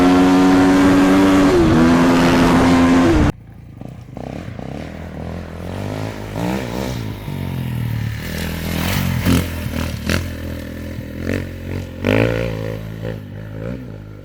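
A Kawasaki KX450X four-stroke dirt bike revs hard at first in a loud, rising and falling engine whine. It then carries on at a lower level as the bike is ridden, with pitch sweeping up and down through the gears.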